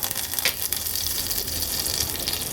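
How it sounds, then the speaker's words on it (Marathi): Green chillies and curry leaves sizzle in hot ghee for a tempering, a steady, crackling hiss with a few louder spits early on and no voices. "आता फोडणीला आपण मिरची आणि कढीपत्ता घालूया."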